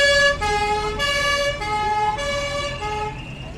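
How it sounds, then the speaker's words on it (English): A French Peugeot police car's two-tone siren alternates in steady high-low blasts, loud and close as it passes along a street at the Lapalisse event, with engine noise beneath. "But here comes the cops, the French Peugeot cop car."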